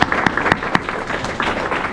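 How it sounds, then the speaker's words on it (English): Classroom applause after a talk in a university supply chain management class, a steady patter of many hands with a few sharp, close claps standing out at a regular pace. "Big round of applause"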